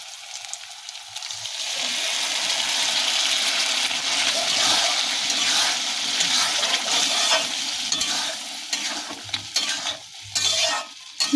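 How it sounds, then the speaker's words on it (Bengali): Boiled lentils (dal) poured into a hot pan for dal muri, a sudden loud wet hiss and sizzle that holds steady, with stirring clatter and splashy bursts toward the end. "এবার আমরা সিদ্ধ রাখা ডালটা দিয়ে দেবো"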